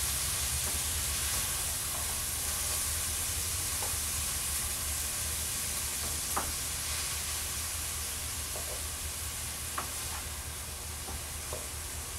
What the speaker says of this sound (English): And we're going to let this saute.